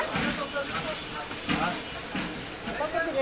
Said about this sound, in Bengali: জিলাপি বানানো হয় এখন তেলে আপনার ভাজা হচ্ছে